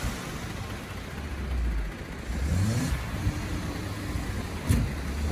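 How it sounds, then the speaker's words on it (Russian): On a snowy hill, a car's engine revs in uneven surges while it tows another car upward, the revving rising and falling with a few brief knocks, heard at moderate distance. "Одна машина тащит другую."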